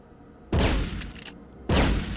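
Two sharp, heavy gunfire blasts from a machine gun in Medal of Honor on PS1, each a loud close burst with a short decaying tail, about a second apart.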